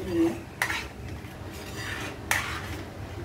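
Grated paneer being mixed into a curry in a pot, with a spoon clinking and scraping against the metal twice over a faint simmering background, close and alone without talk.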